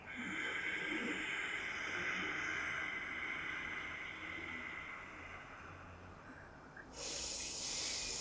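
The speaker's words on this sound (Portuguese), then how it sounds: "quando eu soltar, eu vou fazer um barulhinho com a garganta" A yoga teacher's long, deep exhale with a throat sound at an expo on religion, a steady breathy hiss lasting several seconds, fairly close, with a brief louder burst near the end.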